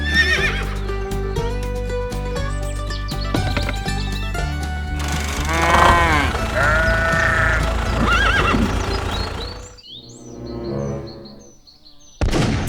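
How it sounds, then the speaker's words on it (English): Horse neighing loudly among busy animated music and effects, with hoof clip-clops and other cartoon sounds; a clear whinny stands out before the score thins out near the end. "The horse is safe now."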